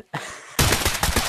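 An AK rifle fires in Pavlov, a faint burst first and then a louder rapid string of close shots in a quick, uneven rhythm.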